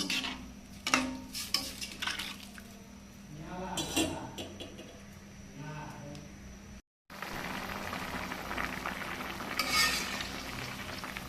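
A thin vegetable broth made with two litres of water cooks in a pot, giving a soft steady bubbling and sizzling with occasional stirring and clinks of utensils, fairly faint and close.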